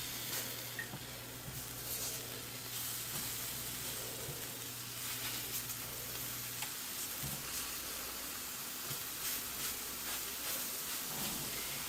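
A pancake-like egg dish sizzles softly in a pan after being flipped, a faint, steady hiss with occasional light pops and a low hum underneath.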